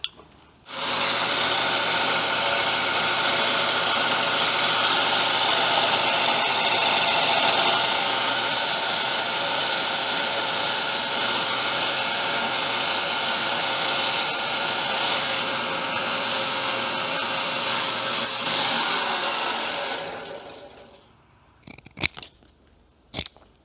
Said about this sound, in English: we're going out to that machine right there, the belt sander